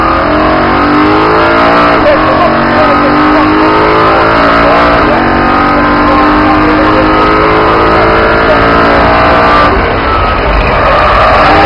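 A BMW M3 racing car's engine roars loudly and continuously from inside the car as it accelerates through the gears, with the pitch climbing and then dropping at each shift.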